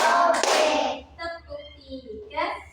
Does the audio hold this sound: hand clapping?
yes